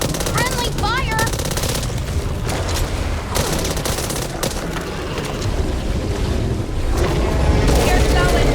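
Gunfire in Back 4 Blood, a dense rattle of rapid automatic shots and blasts going on steadily while voices shout over the fighting.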